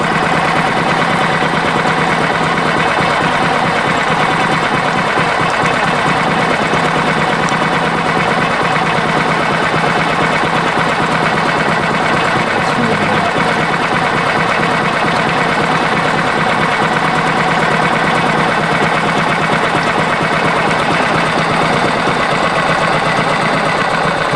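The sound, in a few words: Yamaha outboard motor idling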